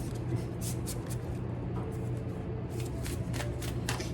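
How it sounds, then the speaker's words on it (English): Tarot cards being shuffled in quick riffling bursts, crisp papery flutters repeating at a steady pace, close and clear with no talking. "I'm going to shuffle each of these decks and I'm going to cut them"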